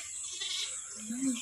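A newborn goat kid gives a short bleat near the end, over a faint background hiss.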